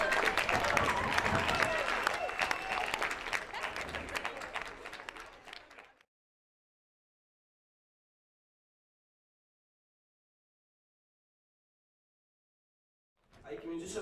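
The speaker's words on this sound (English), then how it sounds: "And a big round of applause." School audience at an interschool word competition final applauding loudly for about six seconds before cutting to silence, with a brief burst of clapping returning right at the end.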